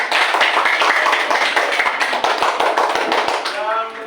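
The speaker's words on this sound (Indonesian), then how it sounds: "Tepuk tangan dulu semuanya." A classroom group claps together in a dense patter of hand claps that lasts about four seconds, with voices mixed in before it fades.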